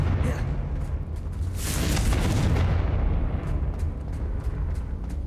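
A Confringo fire spell in Hogwarts Legacy erupts as a heavy, rumbling blast that swells and roars for a couple of seconds, then trails off into a lingering low crackle.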